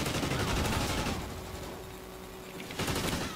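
Dense, continuous gunfire from Call of Duty Ghosts in a clan match: loud overlapping shots that ease off in the middle, then swell back to full intensity near the end, with no speech.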